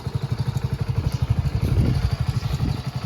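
A motorcycle engine chugs close by in an even, rapid putter, steady and loud for the whole stretch, with no voices over it.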